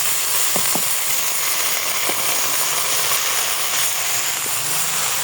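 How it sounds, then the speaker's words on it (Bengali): Leafy greens frying in a pan with onion and chilli give a steady, loud hiss for the whole stretch, broken by a few faint clicks and scrapes. "শাকটা দিয়ে একটু ভেজে নেব।"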